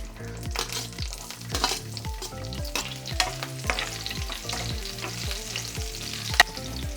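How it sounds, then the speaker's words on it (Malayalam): Green chilies and ginger fry in hot oil in a pan for a Kerala-style fish curry. A bright, steady sizzle runs under repeated rhythmic scraping strokes of a stirring spoon. "അതിലേക്ക് പച്ചമുളകും ഇഞ്ചി ഇട്ട് കൊടുക്കാം."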